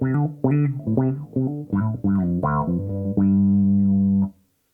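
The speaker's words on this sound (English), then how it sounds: "So you get a really sharp kind of synthy" A sharp, synthy guitar tone through a 3 Leaf Audio Proton v2 pedal plays a short series of plucked notes, then holds a sustained note before cutting off abruptly; loud and close, with no talking.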